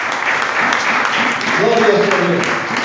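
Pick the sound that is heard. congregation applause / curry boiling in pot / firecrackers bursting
congregation applause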